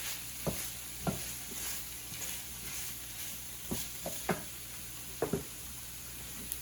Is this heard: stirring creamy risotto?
yes